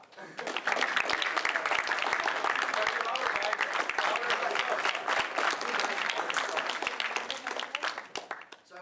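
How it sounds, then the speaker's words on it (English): Meeting audience of students clapping for themselves, a dense, sustained applause from many hands close by, building quickly and holding steady for several seconds before tapering at the end. "give yourself a hand clap"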